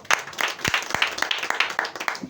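A church congregation claps together in a quick, even rhythm, about four claps a second, at moderate distance, during a sermon.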